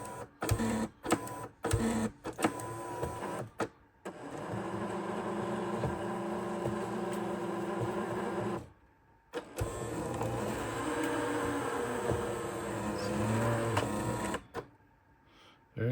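A Creality K2 Plus 3D printer auto-loading filament, with close motor whirring and buzzing in long sustained runs broken by short mechanical bursts and brief pauses, steady and moderately loud.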